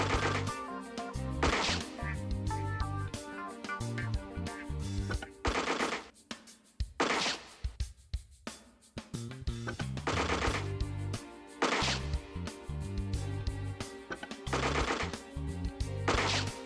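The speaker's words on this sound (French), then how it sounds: "Ok, on va tirer à la Gatling." A Gatling gun fires in the tactics video game One-Inch Tactics, with rapid clattering bursts and impacts layered over steady game music, moderately loud throughout with a short lull in the middle.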